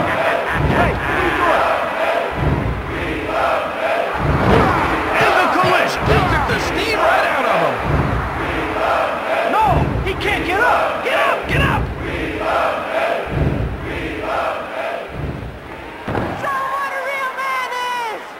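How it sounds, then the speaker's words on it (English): A roaring arena crowd in a WWF wrestling video game cheers continuously at high volume, with a commentator-like voice talking over the noise throughout. "This crowd has gone bananas."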